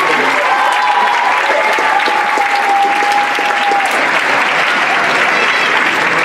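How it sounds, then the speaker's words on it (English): Audience applause at the Arab Xpressions 2018 event, loud and sustained clapping from a large crowd lasting throughout, with a faint voice underneath. "give yourself a round of applause"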